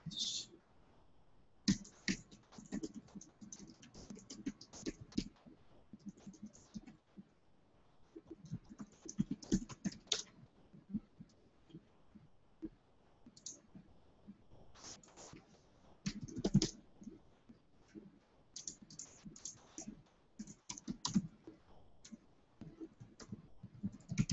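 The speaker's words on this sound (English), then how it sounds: "So I'm just going to type back real fast." Someone types quickly on a computer keyboard, with clustered bursts of crisp key clicks separated by short pauses over nearly half a minute, close and fairly quiet.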